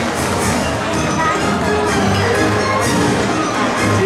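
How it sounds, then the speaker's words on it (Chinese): Dense, steady applause from the audience at a Kaohsiung County physicians' association Doctors' Day celebration fills the hall without a break, loud and close for the whole stretch. "掌声鼓励"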